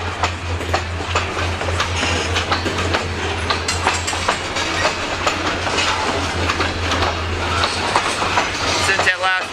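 Train rolling through a rural crossing in Iron Mountain, Michigan, a loud steady rumble with rhythmic wheel clatter and a low droning hum, with no clear horn.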